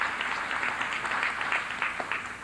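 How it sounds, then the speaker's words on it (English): Applause from an audience at a 1993 African American leadership summit at Medgar Evers College in Brooklyn, a steady, moderately distant wash of clapping that carries on through the whole stretch. "So give Medgar Evers and Dr."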